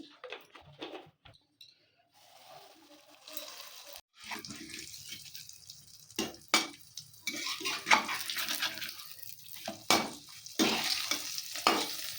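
Stuffed aloo paratha fries in a kadai. A faint start with scattered clatter gives way to a steady, rising sizzle and crackle that holds to the end, with occasional sharp utensil knocks.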